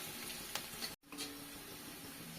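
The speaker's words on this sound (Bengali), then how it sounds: "আর দিয়ে দিচ্ছি 1 চামচ রসুন কুচি। এটা নাড়াচাড়া করে কয়েক সেকেন্ড ভেজে নেব।" A spoonful of chopped garlic stirs and fries in a pan, giving a soft, steady sizzle with a brief pause partway through.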